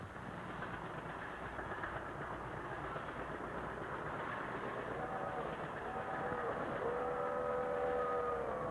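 An American Flyer toy train from a 1950s promotional film runs with steady rolling choo-choo clatter, and near the end whistle tones rise over it, all under a continuous hiss from old recording.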